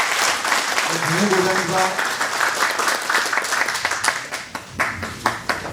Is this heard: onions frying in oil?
no